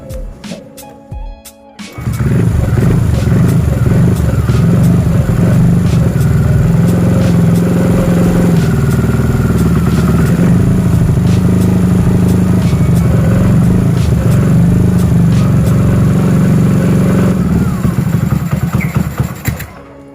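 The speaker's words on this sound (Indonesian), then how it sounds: "kita hidupkan mesinnya" A Honda C70 motorcycle engine, converted from carburetor to fuel injection with a Juken 5 BRT racing ECU, fires up after a brief pause, then idles steadily and loudly close by with a rough, clattering rumble.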